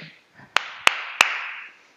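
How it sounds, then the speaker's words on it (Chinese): Three sharp, evenly spaced hand claps in a kids' Zumba dance class, ringing out over soft background music; any foot stomp before them is barely audible. "踩一下地，拍三下手。"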